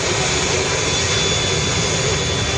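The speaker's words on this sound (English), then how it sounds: "the Typhoon of the Italian Air Force Flight Center is about to touch down on the ground" An Italian Air Force Eurofighter Typhoon jet touches down at an air show, roaring loudly and steadily throughout with a dense broadband engine rush and no voices.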